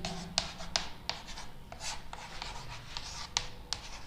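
Chalk or pen strokes on a classroom board during a Hindi-language class 12 political science lesson, a series of short scratchy marks and rubs at an irregular pace, close and fairly faint, with no talking.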